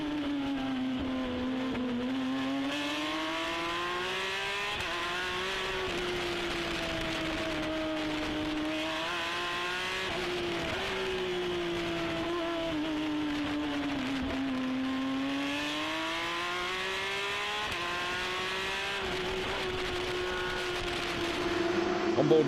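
A Porsche Carrera Cup race car at the Sachsenring, heard onboard: the engine's loud, continuous note climbs and drops again and again with upshifts and braking, while a commentator talks over it throughout.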